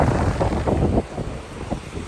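Strong ocean waves and wind rush close by in loud surges during heavy rain and rough water at a Saipan fishing spot, with a heavy wash of water easing after a moment.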